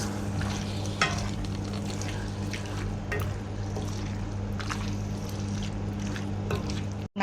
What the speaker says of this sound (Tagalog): Then, haluin.